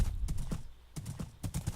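Horse hooves in Minecraft: a close run of hollow clip-clop steps in small bursts of several beats each, with brief gaps between, and no talking.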